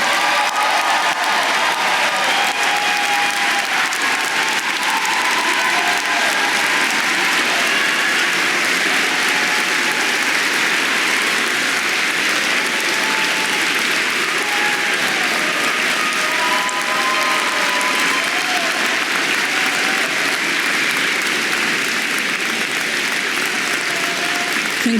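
An audience at an academic awards convocation gives students a long, loud, sustained round of applause, dense and even clapping filling the whole stretch with no talk.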